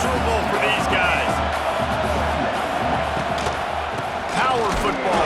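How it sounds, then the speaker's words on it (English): A football stadium crowd roars steadily throughout, a dense, loud wall of noise with faint commentary-like voices mixed in during a college game. "This crowd going to try to make life miserable for these guys."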